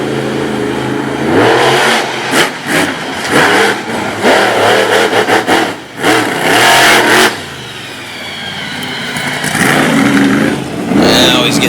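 A monster truck engine at an arena event in Sarver, Pennsylvania, revs hard in loud, repeated bursts, roaring up and dropping back several times before settling into a lower, steadier drone.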